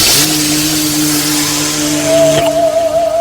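A car pulls up and stops on a road at night, its engine hum steady and close with a rising whine toward the end, heard alone without any voices.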